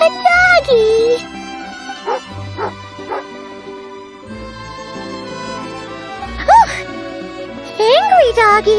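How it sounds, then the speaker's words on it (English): Dog yips, whimpers and bow-wow barks from an angry hunting dog in the video game Genshin Impact, loud bursts scattered through the clip over game music. "Oh, a doggy."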